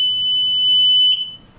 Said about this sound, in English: for the trigger so that the alarm will sound if it's activated.